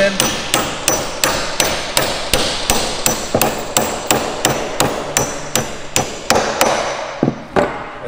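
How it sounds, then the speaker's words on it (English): A hammer drives wedge anchors into concrete in a garage, about two dozen sharp, ringing metallic strikes at a quick even rhythm, close and loud, with a short pause and a few final blows at the end. "hammer them in"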